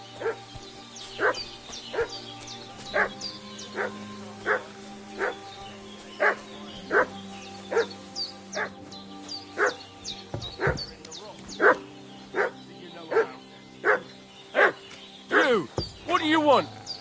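In a video game, a dog barks and fusses, with regular, fairly close woofs repeating about once a second throughout, getting busier with yips and whimpers toward the end.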